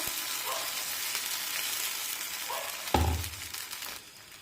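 Poha batter spread on an oiled pan over a medium flame, giving a steady close hiss with a sharper sizzle burst about three seconds in that fades away.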